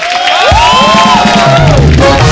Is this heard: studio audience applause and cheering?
yes